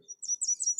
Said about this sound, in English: There's a song sparrow. There's a yellow warbler.